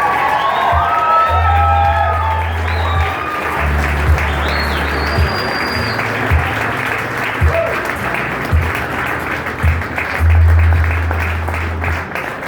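Wedding guests applaud and cheer loudly through a personalized wedding party entrance, a dense, steady wash of clapping with whoops and a deep pulsing music beat underneath.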